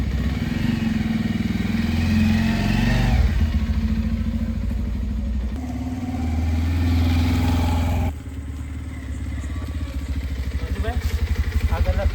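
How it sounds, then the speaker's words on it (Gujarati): A motorcycle ridden along a road, its engine running steadily and loudly with a low throbbing drone throughout, shifting in pitch as the rider speeds up, while people talk over it. "બાઈક લઈને જઈએ"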